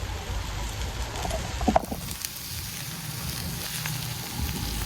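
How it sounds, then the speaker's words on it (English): Okra and salt fish sizzle steadily in a hot pan with little oil, a soft continuous crackle with a brief louder pop near the start. "slight sizzling, which is the ochroes releasing that slime"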